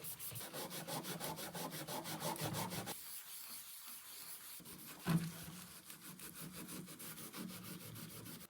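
A Scotch-Brite pad scrubs dirt off a tool room lathe in fast, even back-and-forth strokes, close and quiet, with a short pause midway and a single knock before the scrubbing resumes.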